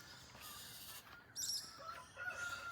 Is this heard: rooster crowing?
yes